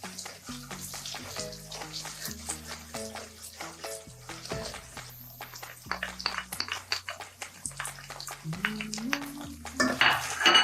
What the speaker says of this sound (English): Continue to stir on it.